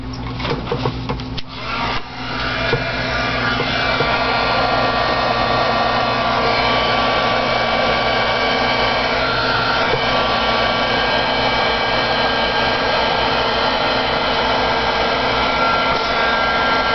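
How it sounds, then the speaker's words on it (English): A heat gun drying spray inks blows a loud, steady, continuous whooshing hum at close range after a few brief handling clicks at the start. "Or you can also dry it with a heat gun, and that's what I'm going to do to speed up the process here."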